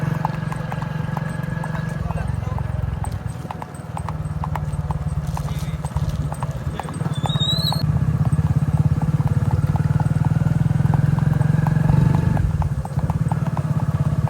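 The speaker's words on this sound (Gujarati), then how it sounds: "એમાં મહિલાભાઈ ઘોડા લઈને નીકળ્યા." Hooves of a Kathiyawadi horse ridden outdoors clip-clop in a steady, even rhythm close by, continuing throughout over a low engine-like hum.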